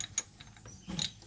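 An 8mm ratchet wrench works on a nut at the starter of a 350 Yamaha Warrior ATV, giving a few close, fairly faint clicking pawl bursts separated by a brief pause.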